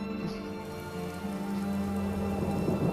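Steady rainfall in The Elder Scrolls game world, a continuous hiss of drops on surfaces with a faint low rumble beneath and some tonal background music layered in, no talking.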